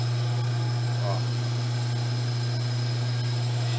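A motor driving an alternator on a test bench gives a steady hum with a strong low drone and constant mechanical whir, running evenly throughout at close range.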